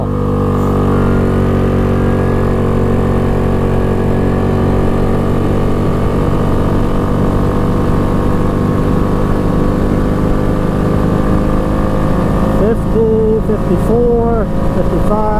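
A 2002 Yamaha Grizzly 660 ATV engine runs at full throttle, giving a loud, steady drone that holds throughout with a strong, even pitch. It is heard close up, and a voice is briefly audible near the end.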